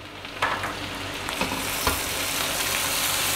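Roughly chopped large tomatoes hit hot oil in a pan for kofta curry, giving a steady close sizzle with a few sharp crackles and stirring scrapes early on, then a constant frying hiss.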